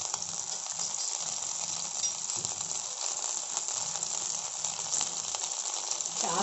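Green chilies and coriander leaves fry lightly in a pan with a continuous, even hiss of sizzling oil, close and steady, with faint clinks now and then.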